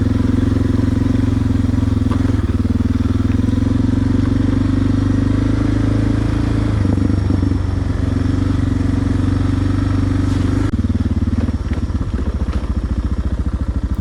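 A dirt bike engine drones steadily and close by along a muddy forest trail, holding a low, even motor tone with small clatters, then turning rougher and more pulsing near the end.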